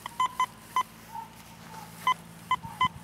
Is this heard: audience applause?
no